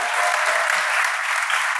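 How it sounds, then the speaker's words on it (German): At an award ceremony in Paderborn, the audience claps for the prize winner Recommendy in a dense, steady burst of applause from a sizeable crowd throughout. "dann bitte ich um einen ganz, ganz kräftigen Applaus für Recommendy"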